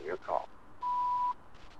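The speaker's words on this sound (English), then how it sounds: "Please leave your name and phone number after the beep." In the horror game Shipwrecked 64, an answering machine gives a single steady electronic beep lasting about half a second. It is clear and close, with a voice just before it.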